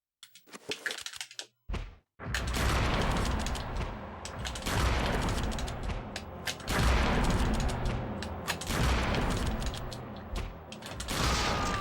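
Repeated shotgun blasts from the Eternal Darkness video game, a dense run of loud, booming shots and reverberant impacts filling most of the stretch after a brief quieter opening.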